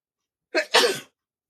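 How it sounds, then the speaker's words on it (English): A single sharp sneeze, close and loud, with a quick intake followed by the burst, then silence. "I could feel that sneeze coming"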